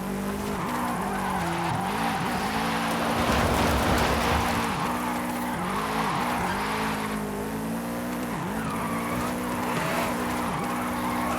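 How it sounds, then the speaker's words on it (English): A 1996 Subaru SVX drifting in Forza Horizon 5, its engine droning steadily while tires squeal in long, wavering slides that rise and fall throughout. "There's another person drifting."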